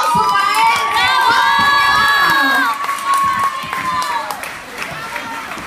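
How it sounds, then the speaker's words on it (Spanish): A crowd at a singing performance in Hermosillo cheers loudly with shrill whoops and shouts over clapping, the high cheering fading after a few seconds as applause carries on more softly. "Un aplauso para él. ¡Bravo!"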